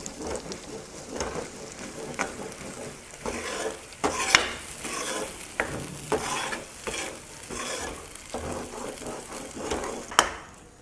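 Poppy seed and almond paste roasting in pure ghee while being stirred constantly, a rhythmic series of scraping, sputtering strokes about once a second, close and without talk.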